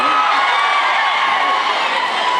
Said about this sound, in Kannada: ಡಾಲಿ ಹೊಡೆದ ಡೈಲಾಗ್ಗೆ ಫ್ಯಾನ್ಸ್ ಶಿಳ್ಳೆ ಚಪ್ಪಾಳೆ ಹೊಡೆದ್ರು